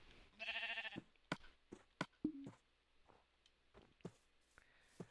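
Sheep in the video game Minecraft let out a short, buzzy bleat close by, amid several quick clicks and taps spread over a few seconds in otherwise quiet surroundings.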